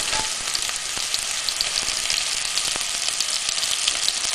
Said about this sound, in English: I'm going to wait for that to get really hot, and then I'm going to pop the meat in there.